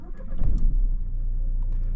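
A Renault Megane 4 with a 1.5 dCi diesel engine runs just after starting. A low, steady idle rumble is heard from close by, with a brief louder swell early on, then settles evenly.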